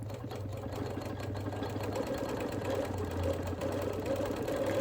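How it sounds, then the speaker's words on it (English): Sewing machine ditch quilting around a wing on a wool appliqué quilt, a steady close whirring drone with a rapid needle rhythm running continuously throughout. "Here I'm ditch quilting around that wing."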